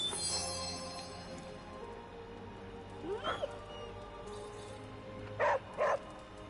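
A dog in the Marvel's Midnight Suns video game gives a couple of short barks while being petted, fairly faint over a steady game soundtrack, with a small yip shortly before.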